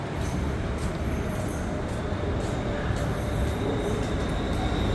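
A Bangkok BTS Skytrain pulls in at an elevated platform, its steady rumble and rail noise holding loud and constant throughout, with faint high wheel squeal above.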